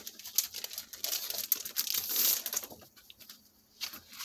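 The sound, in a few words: handling heavyweight printed craft paper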